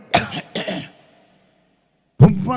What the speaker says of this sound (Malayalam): അവസാനം ഒരു ചുമ